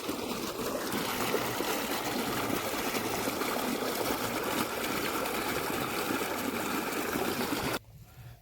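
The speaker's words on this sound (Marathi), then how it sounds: "आता पाणी चालू झालेलं आहे गावावरती." Water gushing from a motor-driven pump into a wheat field for irrigation, a steady loud rushing flow close by that cuts off abruptly near the end, leaving quieter background.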